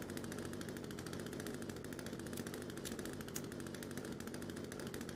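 A chainsaw in a video game runs with a fast, continuous engine buzz, faint and even throughout with rapid pulsing and no speech.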